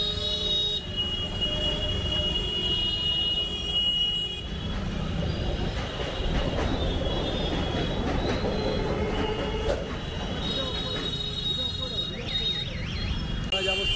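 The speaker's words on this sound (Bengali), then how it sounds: "উপর দিয়ে সাঁতরাগাছি অভিমুখী কোনো ইএমইউ চলছে তার গন্তব্যে।" An EMU commuter train bound for Santragachi runs over a railway bridge overhead, a steady rumbling roll with rhythmic wheel clatter and metallic squeals, continuous throughout, with a person talking over it.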